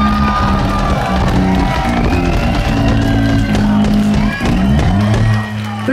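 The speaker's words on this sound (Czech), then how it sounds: "já si myslím, že si zasloužil takový potlesk" A loud concert crowd cheers, whoops and shouts continuously over lingering band music, with the noise sustained for several seconds.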